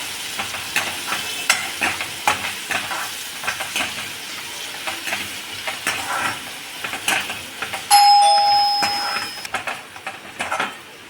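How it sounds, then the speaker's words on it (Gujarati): Garlic, green chili and ginger paste cooking with onions in a pan, a close sizzle under rhythmic spoon stirring and scraping, with a brief electronic beep near the end and no talking. "હવે આપણે લસણ મરચાં આદુની પેસ્ટ ઉમેરીશું હલાવીશું પાકું થવા દઈશું"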